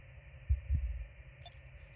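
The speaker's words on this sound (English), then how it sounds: "Kind of like a heartbeat, right?" A heartbeat heard over a radio in a sci-fi survival game on a hostile moon: two low, soft thumps over a steady electronic hum, followed by a brief high blip.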